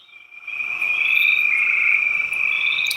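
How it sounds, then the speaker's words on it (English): A chorus of frogs croaks steadily from a pond, a dense, continuous trilling drone that starts faint and swells to fill the scene, with no voices over it. "Oh, yeah, that's all frogs"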